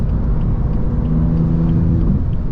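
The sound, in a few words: BMW M4 CS engine accelerating at full throttle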